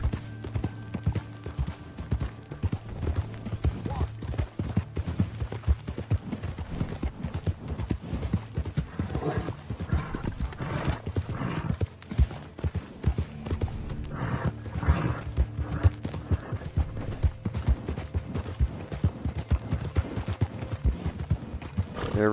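Horse hooves galloping in the Western video game Red Dead Redemption II, a continuous rapid clip-clop rhythm with creaking tack, close and steady over a game soundtrack, with no talk.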